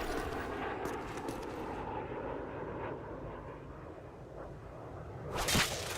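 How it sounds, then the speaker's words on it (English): A knife slashes a watermelon in a video game. A single sharp swish cuts through near the end, over a steady low rumble of distant aircraft and background noise. "Knife the watermelon."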